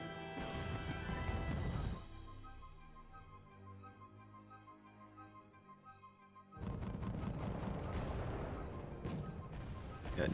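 Artillery barrages from the real-time strategy video game Red Dragon: loud dense rumbling blasts fill the start, ease to a quieter musical lull, then return as sustained heavy bombardment with sharp cracks near the end.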